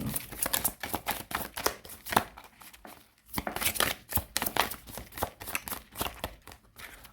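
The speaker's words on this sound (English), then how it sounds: "I'm just doing a little shuffle really fast." Fast, riffling shuffle of a Decameron tarot deck, a dense run of crisp card flutters and slaps over several seconds with one short pause midway, close and fairly quiet.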